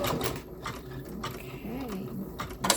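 A Janome sewing machine stitches trapunto in short uneven bursts of mechanical whirring and clicking, close and moderately loud, slowing toward a stop.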